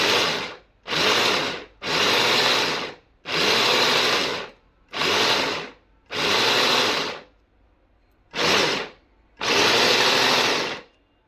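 Food chopper running on jackfruit in eight distinct motor bursts of roughly a second each, separated by brief pauses, with a loud whirring buzz and no talking.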